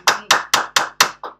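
A woman clapping her hands, six sharp, evenly spaced claps in quick succession, close and loud, with the last one slightly softer.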